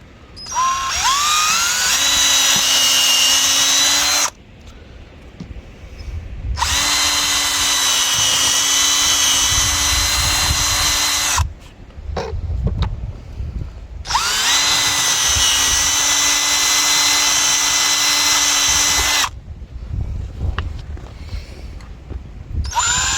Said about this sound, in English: We're going to go ahead and drill it where it is on the bar for now